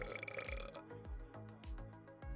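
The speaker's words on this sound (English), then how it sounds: "Man, these jelly bellies are really making me burp." A person burps after eating Jelly Belly jelly beans, a long, close, low, croaky belch with a rhythmic pulsing stretch lasting a couple of seconds.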